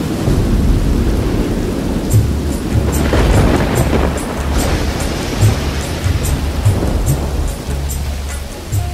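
Sudden heavy rain pours down in a desert setting while thunder rumbles and cracks overhead, a dense, loud, continuous downpour with deep rolling booms throughout.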